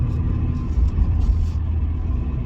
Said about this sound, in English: Let's go on the main road where we can accelerate a little bit